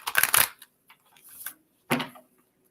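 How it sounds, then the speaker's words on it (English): A deck of cards is shuffled by hand, with a burst of riffling and slapping, some faint shuffling, then a second sharp riffle. The sounds are close and moderately loud, with no talk. "I'm going to shuffle these cards"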